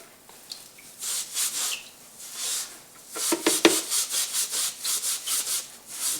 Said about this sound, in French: on repasse un petit coup d'éponge qui gratte pour enlever les petits morceaux de caoutchouc